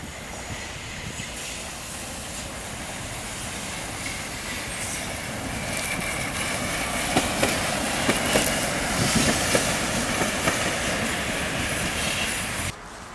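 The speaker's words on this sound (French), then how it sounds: "Ah, puis toujours ce bon tram qui revient." A tram rolls past on a street in Dnipro, Ukraine, a steady rumble with wheel squeal and rail clatter that swells toward the middle and stays loud before dropping off abruptly near the end.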